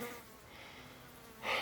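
Horseflies buzz around someone hammering in a forest camp, giving a steady, close, droning hum that swells louder near the end, with no talk over it.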